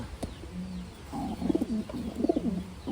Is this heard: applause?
no